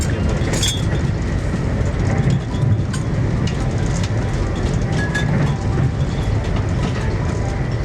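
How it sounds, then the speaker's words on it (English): A CP Rail freight train rumbles past close by with a continuous low roar and faint rhythmic clatter of wheels on rails. "That there's a CP Rail train."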